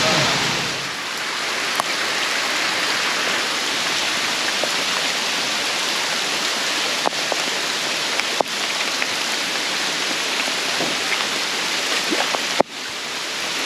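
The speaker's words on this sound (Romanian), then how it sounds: "Deci nu se vede cum plouă, dar e groasnic." Heavy rain pours steadily in Guinea around a camper trailer, a dense, loud, continuous hiss broken by occasional sharp drips or knocks, with no voices.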